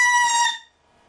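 A shrill, harsh saxophone squawk from taking too much mouthpiece bursts out loudly for about half a second and cuts off abruptly.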